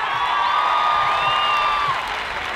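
Crowd at a beach concert in Policoro, a steady wash of applause and cheering with scattered whoops, loud and continuous throughout.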